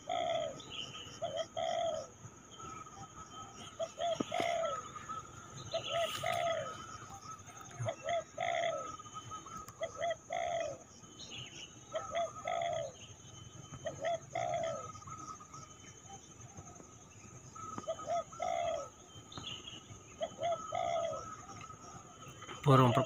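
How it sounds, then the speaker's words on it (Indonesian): Zebra doves coo in a regular repeating pattern of soft phrases at moderate distance in an outdoor hunting setting with trees, with other birds chirping faintly around them and some quiet voices in the background. "oh, ternyata banyaknya perkutut di sini, guys."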